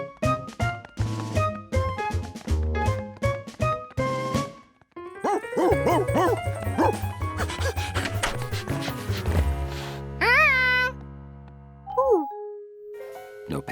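A pack of cartoon dogs piles up, with a rapid run of yips and barks followed by whimpers, playful yelps and a sliding whine, all set against bright cartoon music.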